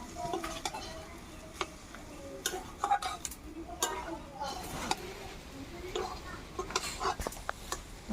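Boiled mung dal is stir-fried with banana flower in a pan: irregular close clinks and scrapes of a spatula over a low sizzle, tapping along in uneven bursts.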